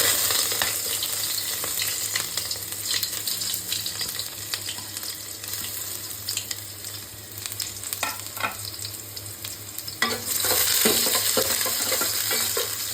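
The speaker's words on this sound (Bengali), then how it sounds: "পেঁয়াজটা ভেজে নিই" Onions fry in a hot pot, making a constant loud sizzle with crackling and occasional stirring scrapes, close up and with no talking, before rice is added for beef khichuri.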